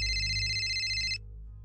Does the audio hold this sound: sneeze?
no